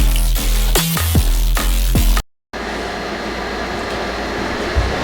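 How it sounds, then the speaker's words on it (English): An air conditioner runs with a steady, even hiss and hum during a hot spell, following a louder rhythmic passage that cuts off abruptly. "Sorry there's still air conditioner sounds."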